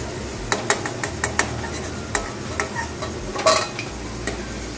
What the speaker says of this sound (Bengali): ওই একই তেলে আমি নুন হলুদ দিয়ে ম্যারিনেট করা চিকেনটা ভেজে নিচ্ছি